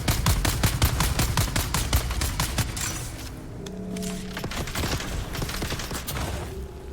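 Rapid bursts of video game turret gunfire, a dense string of sharp shots for about three seconds that then give way to quieter game sounds.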